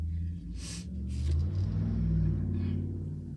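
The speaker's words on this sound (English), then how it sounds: "My neighbor in his cool old truck. I don't know if you heard that. It was pretty loud." An old pickup truck passes nearby with a loud, deep engine rumble that swells and then fades slowly as it drives by.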